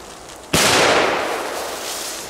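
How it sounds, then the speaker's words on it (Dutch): A Belgian firework goes off outdoors: one sudden loud bang followed by a decaying crackling rumble that tails away over about two seconds. "Op zich wel goede knallen."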